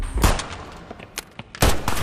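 Gunshots from a crime film scene about an online gambling syndicate, two sharp loud bangs about a second and a half apart, with smaller impacts between them.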